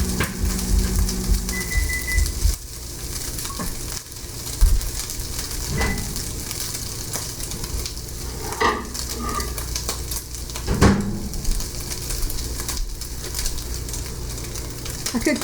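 Oscar Mayer turkey bacon sizzles in a skillet with a steady, fine crackling hiss that runs throughout, broken by a few louder pops and clatters of the pan.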